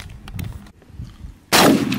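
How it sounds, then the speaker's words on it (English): A hollow point round is fired at a piece of homemade armor outdoors. One loud, sharp report hits abruptly near the end of a quiet stretch, then lingers and decays as it rings out. "we're gonna shoot the smaller hollow point first, followed by the wild boar slug"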